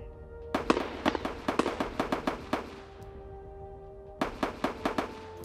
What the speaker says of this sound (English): There's so many shots everywhere.